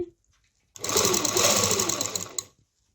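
A sewing machine stitches elastic in a short burst of about two seconds. The needle clatters quickly and close to the microphone, with silence before and after.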